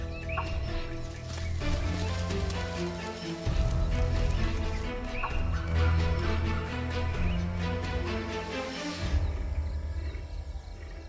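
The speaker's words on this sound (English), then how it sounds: "At the first smell, sight or sound of danger, sambar send out alarm calls and stamp their feet." Sambar deer in an Indian forest give loud, repeated harmonic alarm calls in a series of overlapping bursts, close and insistent.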